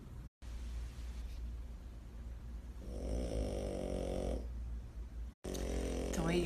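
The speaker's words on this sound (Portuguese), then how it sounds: "eu tô aqui ouvindo roncos e suspiros e sussurros de não só uma, mas duas tiriquinhas" Two small dogs snore and sigh softly while sleeping close by, slow rasping breaths rising and falling, with quiet noise and a brief cut in between.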